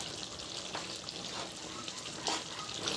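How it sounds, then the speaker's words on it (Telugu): Turmeric being stirred into a curry in a pan, a soft continuous sizzle with light scraping and stirring noises, close and steady without speech. "సో పసుపు వేసుకొని మంచిగా మిక్స్ చేసుకుందాం."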